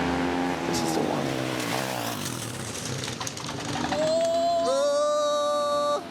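Small-class bucket racer motorcycles scream past on a street circuit, engine notes rising and shifting as bikes pass close by, with a loud high-pitched rider accelerating through the second half.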